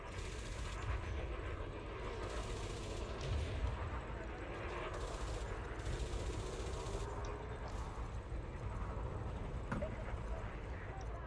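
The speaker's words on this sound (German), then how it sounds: "die Vulture, die auf mich ballert" A Vulture spaceship firing on the player's ship in Elite Dangerous, a rapid run of gunfire impacts and thuds over a constant low hum, fairly faint and steady throughout, with voices in the background.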